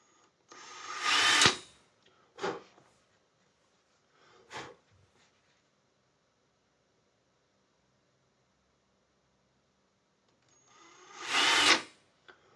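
A power drill bores a small hole into a guitar in a luthier's workshop: three short whirring bursts, one before and two after a pause, then silence and a final louder burst of drilling.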